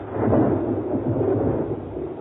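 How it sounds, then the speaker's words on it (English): A deep, rolling crash of lightning thunder rumbles loudly and continuously with no voices, swelling early and then grumbling on at a steady level. "Lightning is the most dramatic form of energy to be found in nature."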